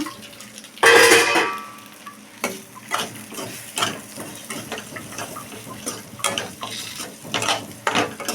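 Eggs dropped into a hot pan of egg masala hit with a loud sizzling burst, then fry with a softer hiss under repeated scraping and stirring strokes of a spoon against the pan.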